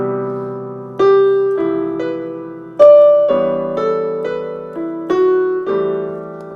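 A solo jazz piano plays a slow sequence of rich sustained chords, each struck clearly and left to ring before the next.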